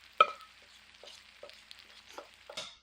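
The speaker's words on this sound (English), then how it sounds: "So you can see how it's sizzling" Cornbread batter sizzles and crackles in very hot oil in a cast iron skillet, with sharp scattered pops over a steady frying hiss; no one speaks.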